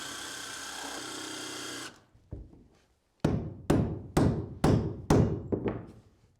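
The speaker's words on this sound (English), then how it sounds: "Go ahead and pre-drill that one" A power drill whirs steadily for about two seconds and stops while driving a screw into a pre-drilled hole, then a run of six or so sharp knocks follows at an uneven pace.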